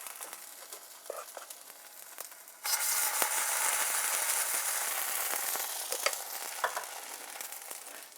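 Coconut pancake batter sizzles and crackles in a hot pan over medium heat, a steady frying hiss that grows louder after a few seconds, with faint scrapes and clicks.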